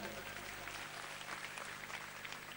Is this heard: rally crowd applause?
yes